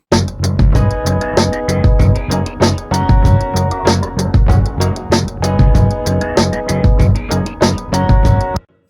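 A groovy, percussive pulse sound sits in a dense mix of drums and sustained synth tones, pulsing steadily and loud throughout before stopping abruptly.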